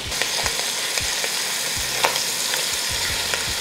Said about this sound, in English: Allow the sausage to brown up.